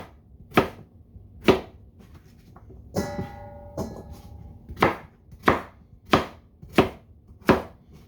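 A sharp knife chops food on a cutting board in a home kitchen, with about ten crisp, evenly spaced knocks that ring close and clear, and a faint clink in the middle.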